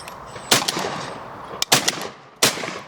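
Shotguns fired at clay targets on a clay shooting ground, three sharp, loud reports spaced about a second apart, each with a short echoing tail, and no talk in between.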